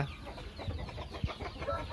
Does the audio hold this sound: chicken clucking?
yes